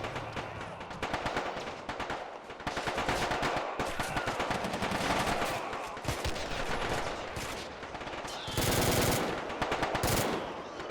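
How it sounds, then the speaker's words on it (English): Rapid, sustained bursts of machine gun fire rattle through a video game battle against flanking Syrian infantry, loud and near, with short pauses between volleys. "They're being shot at by the flanking Syrian infantry."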